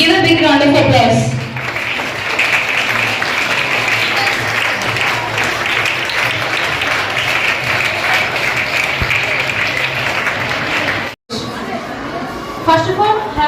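A school audience at a National Mathematics Day prize ceremony breaks into loud, sustained applause with steady clapping and some chatter, continuing for several seconds before a brief break and a short resumption.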